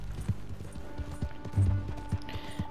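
Horse hooves gallop in Red Dead Redemption 2, a steady clip-clop rhythm carried over a constant low rumble of game sound, with a few harder thuds standing out midway.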